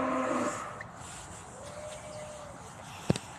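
Cattle lowing on a farm in Unaizah, Saudi Arabia: a single low, drawn-out moo at the start, followed by faint open-air ambience with distant birds and a brief sharp knock near the end.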